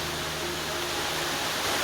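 Waterfall at Cedar Creek Falls in Mapleton National Park, Queensland, a steady broadband rush of falling water that holds constant and fairly close throughout, with no voices.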